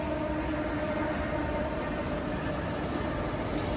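An Amtrak California train on the Union Pacific line in Oakland rolls past as a steady, fairly faint rumble of wheels and rail noise with no horn, heard alone.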